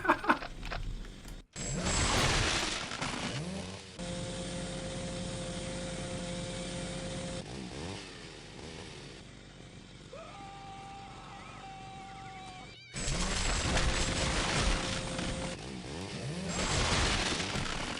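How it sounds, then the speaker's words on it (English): A chainsaw in Postal 2 revs in loud buzzing bursts that alternate with quieter idling stretches, one phase holding a steady tonal hum. "whoa, a chainsaw"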